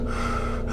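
A voice imitates heavy exercise breathing, producing one sharp, loud, close gasping breath with no other sound around it.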